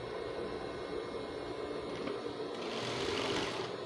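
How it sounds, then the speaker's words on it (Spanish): Sewing machine running steadily while stitching two fabric pieces right sides together at a 1 cm seam for a basic skirt, a continuous mechanical whir at moderate level that brightens slightly near the end. "colocamos derecho con derecho de esta forma y cosemos a 1 centímetro"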